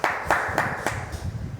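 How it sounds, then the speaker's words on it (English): A small group claps to welcome the tasting officer on a food-themed talk show, a handful of distinct claps in quick succession that fade into a low rumble of room noise. "Oh, a round of applause."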